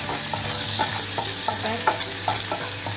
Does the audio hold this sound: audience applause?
no